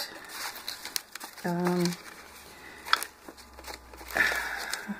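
Paper cutouts and leftover scraps handled and shuffled at close range, soft crinkling and rustling in bursts, with a person talking briefly in the middle.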